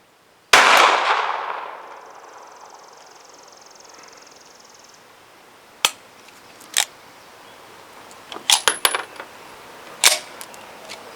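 Sharp pistol shots ring out from a Sig 365 XMacro at close range, one loud crack with a ringing tail followed by scattered quieter cracks and pings, including a tight burst, like rounds striking steel targets.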